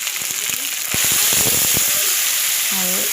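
Potatoes and peas hiss and sizzle steadily in hot oil with spice paste, with scattered crackles and pops throughout and a brief faint voice-like tone near the end.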